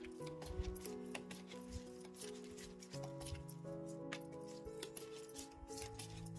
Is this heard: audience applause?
no